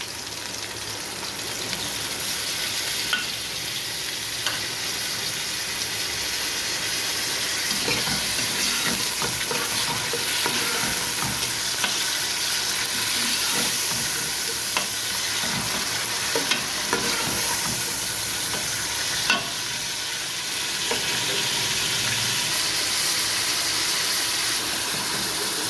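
Onions fry in hot ghee for a goat trotter paya curry, a steady loud sizzle with occasional stirring scrapes and clinks throughout, close up and free of talk.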